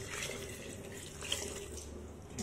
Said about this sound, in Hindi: हम लोग 2 गिलास पानी डालना है,